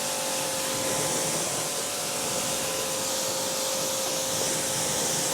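Steady broadband hiss of a pressure washer with a short nozzle rinsing a taped-up Subaru WRX engine bay, continuous and fairly close with no pauses.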